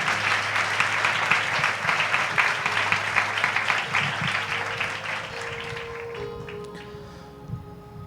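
A church congregation claps loudly and steadily for several seconds, a dense wash of applause that slowly thins and fades out near the end, with some faint voices underneath.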